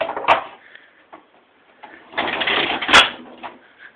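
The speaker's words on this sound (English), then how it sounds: "Removable drawer." A removable cash register drawer is handled, giving short clunks and knocks with a clatter of scraping and sliding in the second half.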